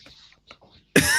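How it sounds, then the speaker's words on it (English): A man clears his throat in a couple of short, gruff bursts, close to the mic, then a loud noisy burst cuts in at the end. "Clear my throat."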